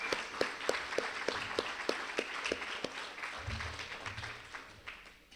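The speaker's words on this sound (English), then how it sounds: "They need a huge round of applause." Sustained audience applause at an annual company meeting, a room full of people clapping continuously with distinct sharp claps standing out, fairly faint overall and gradually fading.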